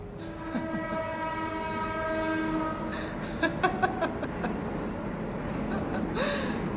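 A passing train sounds a long, sustained horn blast, followed by the rumbling and clattering of cars rolling by, with sharp rhythmic clacks over the rails; a faint voice briefly emerges near the end.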